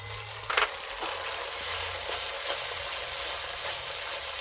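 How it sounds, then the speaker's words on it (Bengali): Ground spice paste with melted tomato stirred in a hot pan, a steady close sizzle and frying hiss with soft spatula scrapes and a brief clatter near the start. "এখন বাটা মশলার সাথে টমেটো গলে গেছে, এটা আমি ভালো করে মিক্স করে নেব।"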